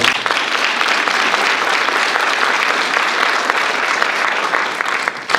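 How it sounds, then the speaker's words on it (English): A room of guests at a Black History Month luncheon breaks into loud, steady applause for a chef's catering staff, dense clapping sustained throughout with a few faint voices mixed in. "Give a round of applause for"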